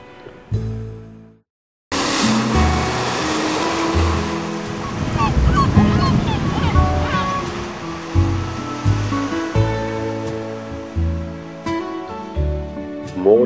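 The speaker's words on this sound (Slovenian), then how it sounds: "žuborenje valov za krmo" Sea waves lap and gurgle steadily behind the stern of a sailing boat, a continuous close wash of water that rises and falls, with music over it.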